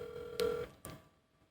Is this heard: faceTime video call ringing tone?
yes